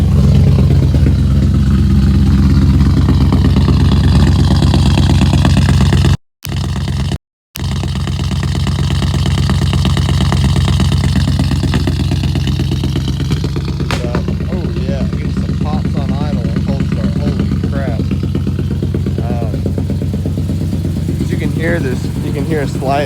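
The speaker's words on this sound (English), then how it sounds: "can hear a slight exhaust leak" A car idles after a 540 engine swap and has a slight exhaust leak on the lower left side. The engine gives a steady, continuous hum while someone talks over it for most of the clip.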